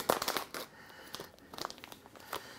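A plastic food package for an Aldi microwave meal is torn open by hand, giving close, crinkly bursts of crackling in a couple of quick flurries.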